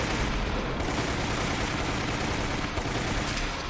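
Submachine gun fire in Resident Evil: Umbrella Chronicles, a dense, unbroken stream of rapid shots filling the clip at steady loudness.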